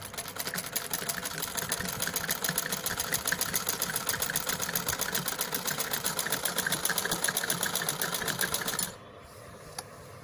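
A sewing machine stitches at a fast, even rhythm, a loud close mechanical chatter running for about nine seconds before stopping abruptly, leaving a faint quiet tail with one small click.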